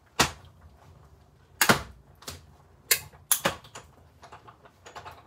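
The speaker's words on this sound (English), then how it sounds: "Bring my machine back in and we'll run those through the die cut machine." A die cut machine running craft cutting dies produces several sharp mechanical clacks and clunks spaced unevenly over a few seconds, fairly close, with softer rattles between and no talking.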